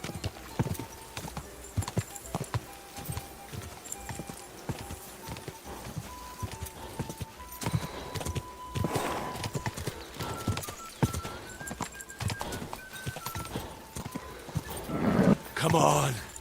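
A horse trots and gallops with rhythmic hoofbeats throughout a stretch of medieval role-playing game action, with someone talking excitedly over the hooves and a louder burst of movement near the end.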